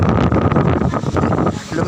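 Strong wind buffets the microphone outdoors on a sightseeing outing, a continuous roaring, rumbling gust noise that stays loud throughout with faint muffled voices beneath it.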